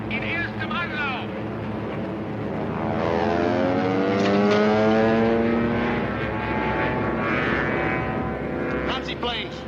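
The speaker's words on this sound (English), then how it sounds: "Nazi planes. They're enemy planes, sir." Aircraft engines drone steadily through a 1943 black-and-white WWII naval film scene, a sustained rising and falling roar of enemy warplanes overhead, loud and continuous under scattered voices.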